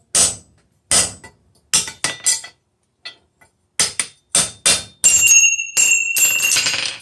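A steel punch is hammered through hot steel on a blacksmith's anvil: a series of sharp, loud metallic strikes in uneven rhythm, the final blows ringing out with a bright, lingering anvil tone.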